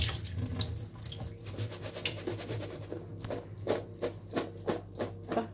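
Water runs steadily from a kitchen tap while vegetables are rinsed for a pasta salad, a continuous splashing flow with brief louder bursts as things are moved under the stream, no talking.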